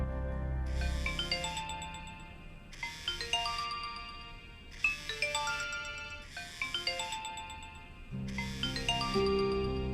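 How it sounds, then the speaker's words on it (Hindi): A mobile phone rings with an incoming call, its melodic ringtone repeating in five clear bursts about two seconds apart, loud and close, with no one speaking. "उठा लो ना यार कॉल।"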